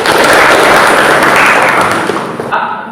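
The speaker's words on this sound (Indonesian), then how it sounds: "Tepuk tangan untuk kelompok 3." A class claps for a winning student group, with loud sustained applause that thins out and stops abruptly near the end, leaving near silence.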